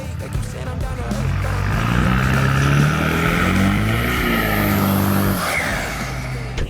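An engine-swapped Nissan Patrol drives and revs loudly nearby, its engine note rising and falling through the gears with music playing underneath.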